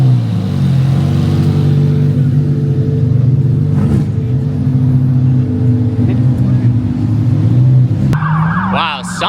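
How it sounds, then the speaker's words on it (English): A police car blasts past, a loud, sustained engine and road roar that stays strong throughout, with a brief shift in tone near the end. "something is going down because this is a third cop blasting by"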